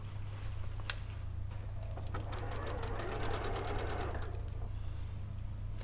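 A sewing machine fitted with a quarter-inch foot stitches in a steady rapid run of clicks for about two seconds, preceded by a few faint ticks and set against a low background hum.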